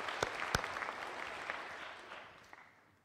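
Audience applause for the judges at an elevator pitch event, a dense wash of clapping from a crowd with a couple of sharper claps near the start, fading steadily toward the end of the few seconds.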